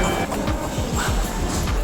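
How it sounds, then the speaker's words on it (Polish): A Shinkansen bullet train in Tokyo rumbles loudly nearby, with steady rhythmic clickety-clack of wheels over rail joints and a brief faint squeal. "A tutaj nasz Shinkansen."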